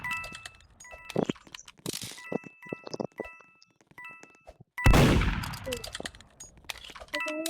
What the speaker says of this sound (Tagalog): Kung sino-sino binabaril niya parang baliw.